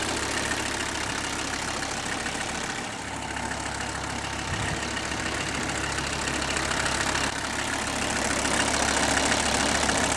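A Mercedes-Benz W126 300SD diesel engine with heavy blow-by idles steadily with a low, constant rumble and faint knocking, running unbroken throughout with no voices.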